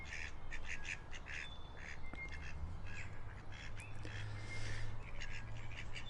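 Ducks in a park quacking repeatedly in short, nasal bursts over steady low background rumble, several calls overlapping at moderate distance.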